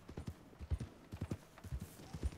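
Rhythmic hoofbeats of a horse trotting in the video game Red Dead Redemption 2, steady clip-clop in quick pairs, close and clear with no talking.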